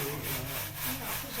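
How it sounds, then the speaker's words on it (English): Puffed rice being sifted out of hot sand at a candy factory in Cai Be, giving a steady, close, dry raspy rubbing and scraping with no voices. "separate puff rice and the sand"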